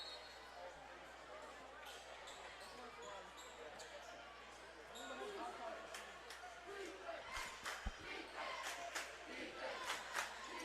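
Crowd at a high school basketball game between JHS and NHS, with steady babble and cheering throughout and sneaker squeaks and ball sounds on top that grow livelier in the second half.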